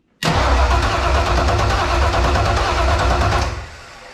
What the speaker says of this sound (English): So, it rolls over, no fire, no ignition.